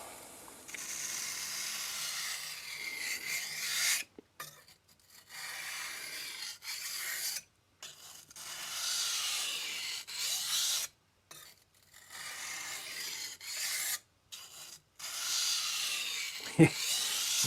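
Kitchen knife with an integrated bolster drawn across a coarse vitrified sintered diamond whetstone, a close, gritty rasping in repeated strokes separated by short pauses, with one sharp tap near the end.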